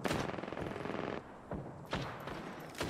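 Automatic gunfire from weapons in Apex Legends, a dense rattling stream for about a second, then several shorter loud bursts after brief pauses.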